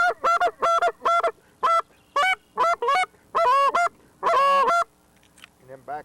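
Geese honking in a rapid series of loud, clipped calls, the bursts coming in quick pairs and runs before a longer, drawn-out stretch of honks and a few softer calls at the end.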